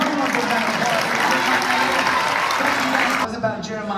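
A crowd at a basketball ceremony with an illusionist performing gives a loud round of applause with cheering voices mixed in, cutting off abruptly near the end.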